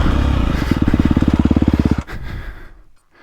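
A 2022.5 KTM 250 Factory Edition motocross bike engine pulls hard up close, loud rapid firing pulses climbing for about two seconds before the sound drops away and fades out.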